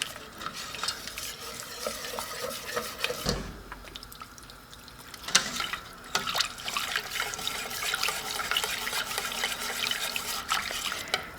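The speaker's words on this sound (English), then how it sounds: "I'm going to add the milk a little at a time so it gets incorporated without being all clumpy." Milk is added a little at a time to a roux for creamed chipped beef while it is stirred, giving soft sloshing and scraping in the pan with brief pouring bursts and a faint sizzle, and no voices.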